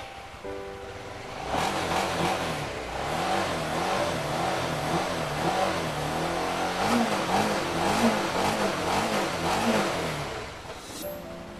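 A used motorcycle engine runs smoothly at a steady idle with a few light rises in revs, close and continuous for about ten seconds, with no one talking.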